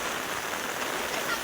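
Heavy monsoon rain pours down on a Konkan village, a dense, steady hiss of downpour filling the air with no voices.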